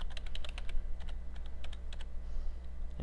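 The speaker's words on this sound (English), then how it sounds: "or just type it in" A password is typed on a computer keyboard in a short run of rapid, close clicking keystrokes over a steady low electrical hum, with no speech.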